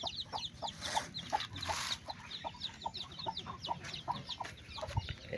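Hen clucking near newly hatched chicks in a backyard chicken coop, heard as repeated soft rhythmic clucks with faint high peeps throughout, fairly close and without talk.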